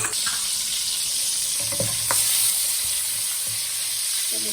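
Butter melting into hot oil in a pan for Afghani malai chicken seekh gravy, a steady close sizzle with a few brief stirring clinks, no talk.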